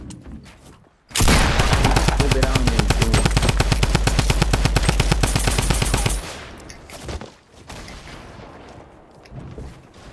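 Rapid, loud gunfire from a Desert Eagle pistol in a video game: a dense burst of evenly spaced shots lasting about five seconds, then quieter game ambience with no voices.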